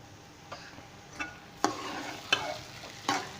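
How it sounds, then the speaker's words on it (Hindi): Sugar being stirred into a besan and egg halwa in a pan, a few sharp scraping strokes spaced under a second apart over a soft steady sizzle, close and alone. "फिर हम इसको इसमें मिक्स करते हैं।"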